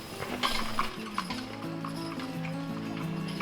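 A team of four horses hauls logs, with clopping hooves, clinks of harness chain and a steady low rumble close by, and no talk.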